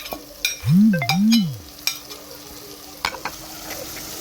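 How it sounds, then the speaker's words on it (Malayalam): Crushed onion, garlic, ginger, chilli and curry leaves sauté in hot oil for a chicken dish, a close sizzle broken by the scrape and clatter of stirring in the pan, with no voices. "നമ്മൾ ചതച്ച് വെച്ച ഉള്ളിയും വെളുത്തുള്ളിയും ഇഞ്ചിയും മുളകും നമ്മളെ കരിയാപ്പിൻ്റെ ഇലയും എല്ലാം അതിലോട്ടിട്ട് ഒന്ന് വഴട്ടിയെടുക്കണം"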